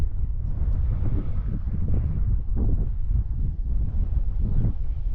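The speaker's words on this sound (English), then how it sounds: "It's quite windy." Strong wind batters the microphone on a paragliding launch site, producing a continuous low roar with gusty surges and crackles, close and loud, with no voices.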